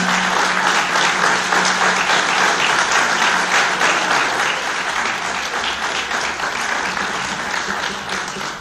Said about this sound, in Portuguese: peço a todas as pessoas que aqui estão para me darem palmas só com uma mão